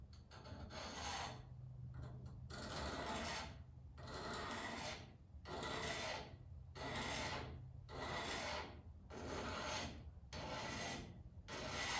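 A knife is sharpened on the coarse side of a whetstone, with about six rhythmic scraping strokes back and forth, each a gritty rasp followed by a brief pause, close up and fairly quiet, no voices.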